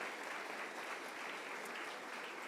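Congregation applauding during a church service, a soft, steady wash of many hands clapping heard from a distance and sustained throughout.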